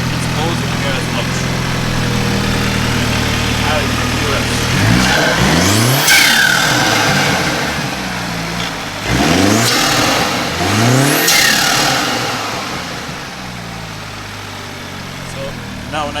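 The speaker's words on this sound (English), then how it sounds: "So you can hear the intake noise when the hood's up." A BMW 330i F30 fitted with a performance intake, heard with the hood up, revs in several sharp rising bursts over a steady idle, the surges loud and close, with the engine settling back between blips.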